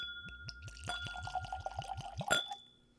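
Wild Turkey whiskey glugs from a bottle into a glass in quick rhythmic pulses, close and clear, ending with a light clink of glass.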